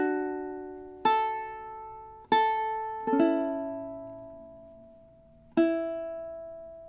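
Ukulele playing measures 3 and 4 of a song, with five clean strums spaced unevenly, each ringing and decaying, played alone.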